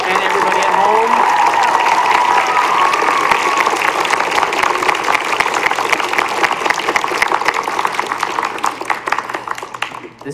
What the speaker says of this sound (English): Can we have one more round of applause from our small audience and everybody at home?